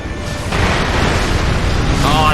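Fireworks bursting in the video game Sekiro give a dense, continuous booming rumble with crackle, loud and sustained across the whole stretch, with no talk over it.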